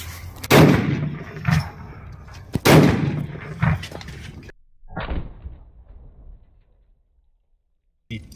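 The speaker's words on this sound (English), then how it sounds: "the big one, 7mm magnum on this skinny earth block wall, 7-inch thick" Two loud, sharp 7mm magnum rifle shots about two seconds apart strike a 7-inch compressed earth block wall outdoors, each blast followed by a short rumbling echo, then a few quieter impacts and a long fade into near silence.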